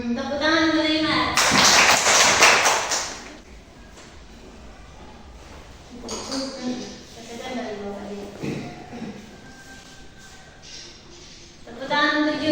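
Classroom of children clapping hands in a short, loud burst of applause, with a teacher's voice talking before and after.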